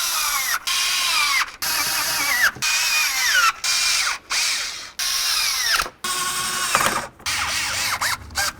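A power tool drives valve cover bolts on a Ford Crown Victoria engine, a loud, close whirring and ratcheting in repeated bursts, each cut by a short gap of silence.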